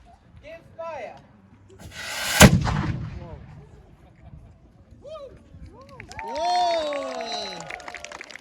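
A single loud musket volley cracks out at a castle firing demonstration, a sharp broadband blast with a lingering echo, while a crowd murmurs and talks before and cheers and exclaims afterward.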